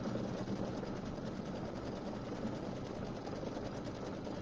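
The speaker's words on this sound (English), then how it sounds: "I'm going to go ahead and I'm going to sew this" A sewing machine quilts tumbler blocks with white embroidery thread, running in a steady, continuous mechanical whir of even stitching throughout, moderately quiet and close, with no voices.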